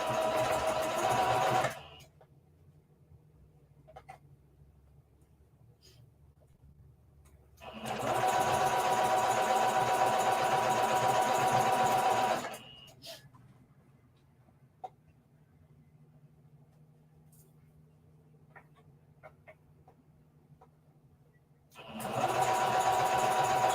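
Sewing machine stitching around the fabric pieces of a reversible bucket hat, two long bursts of rapid mechanical whirring with a short third burst, separated by quiet pauses with small handling clicks.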